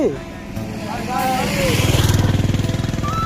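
A motorcycle engine idles with a steady low putter that grows louder and more rhythmic, while people talk over it.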